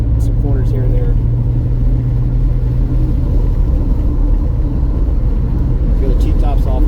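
A 1983 Datsun 280ZX Turbo fitted with new front and rear sway bars, heard from inside on a test drive: a steady low engine and road rumble holds throughout, with a voice talking over it.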